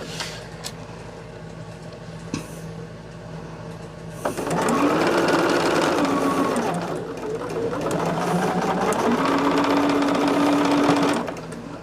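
A home sewing machine stitches in two long bursts, its motor whirring loud and close with rising and falling pitch, after a few quiet handling clicks.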